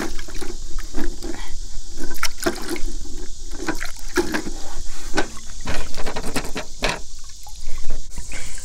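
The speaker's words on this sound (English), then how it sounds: "all you need to do is obviously take out your soap, rinse off your board" Water splashing and trickling as a wooden laundry washboard is rinsed off after hand washing, irregular close splashes and running water with no talk.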